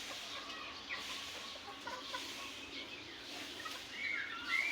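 Chickens clucking near bamboo behind a house, soft scattered clucks and a few short calls from a distance over faint outdoor background.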